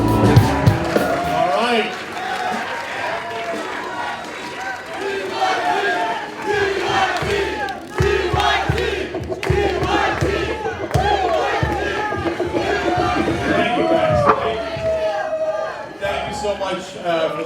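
A large outdoor crowd at a climate rally in Los Angeles chants and cheers continuously, loud and dense, with rhythmic shouting and voices overlapping throughout.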